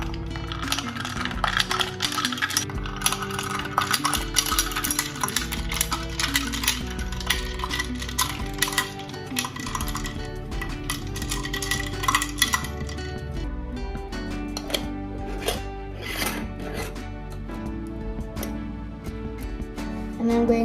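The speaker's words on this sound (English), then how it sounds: "I have a spoon and I'm going to mix now." A spoon stirs iced tea in a glass full of ice cubes, giving a continuous run of bright clinks and rattles as the cubes knock against the glass for about twenty seconds.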